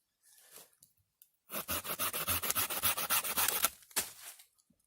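A Bahco Laplander folding saw cuts through a piece of deadwood about an inch thick outdoors in the woods, with around a dozen quick, even rasping strokes close to the microphone, then a few final scrapes and silence.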